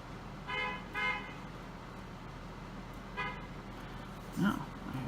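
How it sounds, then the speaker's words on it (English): A car horn honks outside, faint and distant, two short toots followed later by a third, with a soft low noise between them and a brief closer thump near the end. "I have somebody honking"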